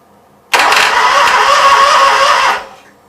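A Briggs & Stratton Vanguard engine cranks and fires for about two seconds, a loud, steady roar up close that cuts off abruptly and then fades.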